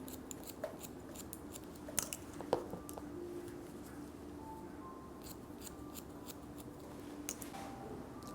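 Scissors snip through synthetic wig hair while a blunt hime cut with straight bangs is shaped, giving soft, scattered crisp snips that recur irregularly over a quiet room hum.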